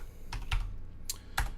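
Keys on a computer keyboard tapped in a few separate short clicks and small bursts, close and fairly quiet, with no voices.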